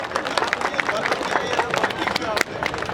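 An audience at a Rajput Karni Sena cricket tournament ceremony claps steadily in a dense outdoor patter, loud and continuous for a few seconds, mixed with crowd murmur and voices.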